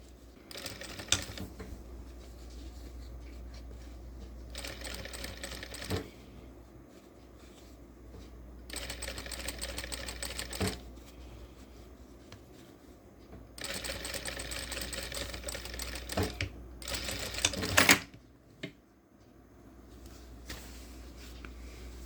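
A sewing machine stitches a shirt sleeve in several bursts of rapid mechanical whirring, separated by quiet pauses and soft handling noises, with one louder clack near the end and no talk.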